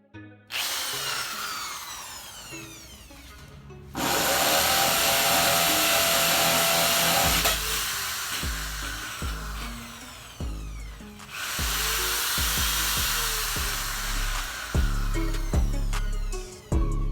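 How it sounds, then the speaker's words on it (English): A hammer drill, powered from an AP1000 battery power station, runs in long, loud grinding bursts with brief pauses between them, the motor whining steadily while the bit chatters against material. "I wanted to test it with a hammer drill"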